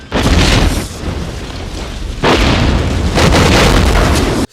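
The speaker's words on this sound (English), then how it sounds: "So many explosions." Loud, booming explosions from the 1996 film From Dusk Till Dawn roll one after another, with a deep rumble between bursts and big blasts near the start, middle and end.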